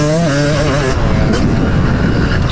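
Vintage Yamaha 250 YZ motorcycle engine running loud and close, a rising revving tone that settles into a steady, dense rumble throughout.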